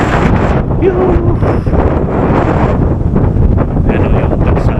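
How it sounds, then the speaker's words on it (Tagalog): Strong wind on an open hilltop in Pangasinan buffeting the microphone with loud, continuous roaring rumble throughout, with brief faint voices underneath. "Huwag tayong ganong gigilid dito dahil ang lakas ng hangin."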